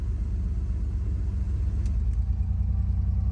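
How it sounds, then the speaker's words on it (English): A 1985 Pontiac Fiero GT idles with its air conditioner running, giving a steady low rumble and mechanical hum that holds constant and close, with no talk over it. "That's the air conditioner."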